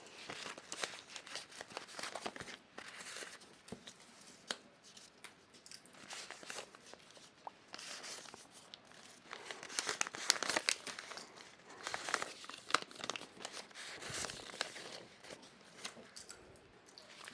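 A paper surprise package is unwrapped close up, with quiet, continuous crinkling, rustling and tearing of paper that builds in the middle. No one speaks.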